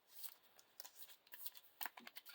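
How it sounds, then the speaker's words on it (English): A deck of game cards for a Lord of the Rings living card game is shuffled close up in short, quiet riffling bursts of crisp paper flicks. "And we have to shuffle in these"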